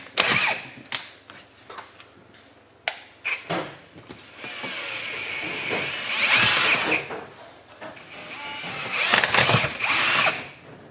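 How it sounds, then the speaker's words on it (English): A power drill bores open the port injector bungs on a BMW S58 intake manifold for an E30 swap, with bursts of whining drilling separated by pauses and handling clatter, close up in a workshop. "so we need to drill those open"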